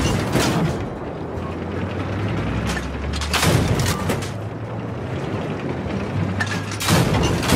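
Battlefield 4 on PS4: a weapon fires, then repeated booming shots and mechanical reload clatter follow over a dense, loud battlefield rumble, with short gaps between bursts.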